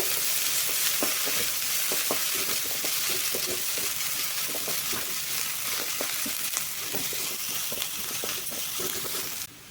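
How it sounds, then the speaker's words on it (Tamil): Onion and green chillies sauté in a pan with a steady, close sizzle. Soft scraping stir strokes tick through it at a loose rhythm, with no voices. "கொஞ்சமாக வெங்காயம், 2 பச்சை மிளகா எல்லாமே போட்டு நல்லா கலந்து விட்டுக்கோங்க."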